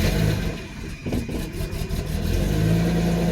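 1991 Mercedes 190E engine catching after the fuel is pumped, a short clattering crank around the one-second mark that settles into a running engine, rising slightly toward the end with light ticking.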